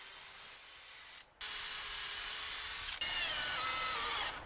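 Power drill driving screws into wooden studs on a workshop garden-bin frame, a steady whirring run that stops briefly and restarts, loud and close, with no talk.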